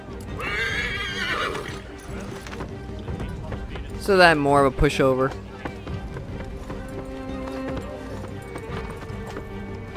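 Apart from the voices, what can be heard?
horse neighing and hooves clip-clopping in video game Assassin's Creed 3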